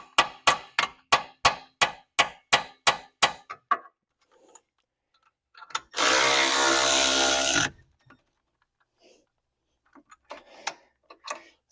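A hammer taps a wheel stud into place on a Jetta TDI during a stud conversion, about ten sharp, evenly spaced metallic clinks, followed by a brief burst of loud hissing noise and a few faint clicks.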